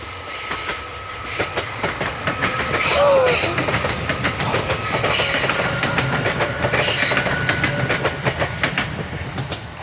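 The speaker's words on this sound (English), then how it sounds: "There's the fucking train." A train rumbles past a cyclist in Latvia, heavy rolling and rhythmic clickety-clack of wheels on rails continuing throughout, loud and close with a brief wheel squeal, no talk.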